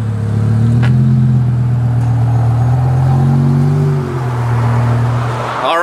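A BMW V10 M5 fitted with an Eisenmann race exhaust revs loudly and close, its deep droning note swelling and holding through repeated throttle blips before easing off, with no talking.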